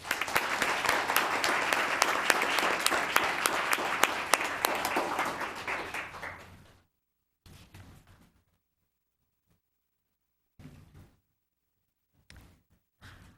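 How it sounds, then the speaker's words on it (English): Applause at a town council meeting in Los Gatos: dense clapping for several seconds that tapers off, followed by near silence with a few short bursts of sound. "Another round of applause."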